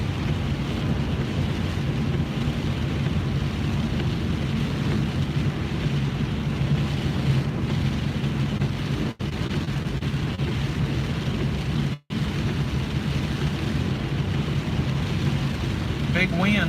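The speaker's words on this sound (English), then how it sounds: "Big wind too. Pretty good gust with this." Strong storm wind roars steadily against the microphone while driving on a rain-soaked road in northeast Tennessee during a thunderstorm. The noise is constant and loud with only two brief dropouts.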